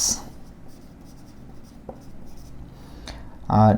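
A few short, sparse writing strokes sound on a board during a Bengali-language lesson on English prepositions, in a quiet room, before a brief loud burst of voice at the end.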